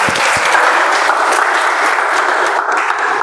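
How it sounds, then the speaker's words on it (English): Loud, even burst of applause from the room at a Toastmasters club meeting, continuous and close for its few seconds, with no talking over it. "A big round of applause to Toastmaster Trilochan."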